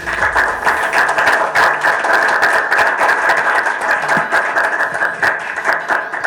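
Sustained audience applause at a university and madrassa students' training workshop in Karachi, a dense steady clatter of many hands clapping close by for the whole stretch, with no talk over it.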